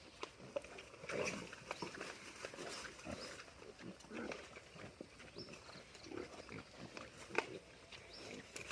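Wild boars feed on fruit peels outdoors, grunting, snuffling and chewing faintly in short irregular bursts, with someone talking quietly over them.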